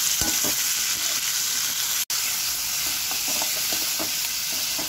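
Potato bhaji with lemon juice and seeds is stirred in a frying pan, a steady close sizzle with light scraping strokes and a sudden brief dropout partway through.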